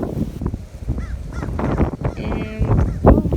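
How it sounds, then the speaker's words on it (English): In a summer garden, harsh honking caws ring out several times over busy outdoor noise, loud and fairly close. "I hear you, Mr. Crow."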